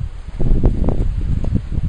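Outdoor wind gusts and buffets close against the microphone, a loud rumbling rush with brief rustling swells that keeps going without speech.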